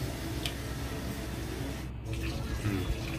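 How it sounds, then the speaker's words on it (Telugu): Hot water pours in a steady stream into Mysore-style bonda batter mixed with cumin, a continuous close splashing wash that holds for about three seconds. "తర్వాత దీంట్లోకి వేడి నీళ్ళు పోసుకోవాలన్నమాట."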